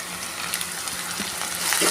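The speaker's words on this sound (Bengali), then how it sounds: "আদাটাকেও একটু ভালো করে ভেজে নেবো" Ginger paste fries in a pan with onion and garlic for a rohu fish rezala, giving a steady, close hiss of sizzling oil with no talking.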